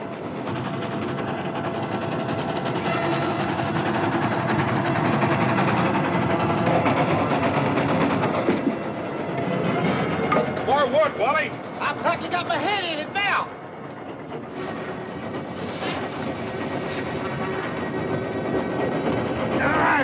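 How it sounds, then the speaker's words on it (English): A silk train running on rails, a loud continuous rumble and clatter with shifting metallic squeals, while people talk over it. "We haven't gotten away from the silk train yet."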